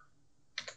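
A computer keyboard being typed on while entering graph values: a quiet room, then a quick burst of a few soft keystrokes near the end.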